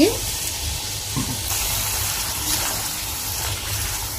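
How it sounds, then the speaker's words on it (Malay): Meat broth poured into spices frying in a pan for beef dendeng gives a steady, fairly loud sizzle that runs unbroken throughout, with a brief bubbling burst at the start. "kita masukkan sedikit air rebusan daging"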